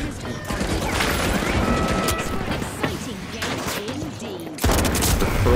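Rapid gunfire and explosive crashes from the shooter video game The Finals, including sniper shots, crackle almost continuously at close range, with a player talking over the action.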